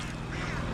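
A duck quacks close by beside a fishing net at the water's edge, its calls blending into steady broadband outdoor noise with no clear breaks.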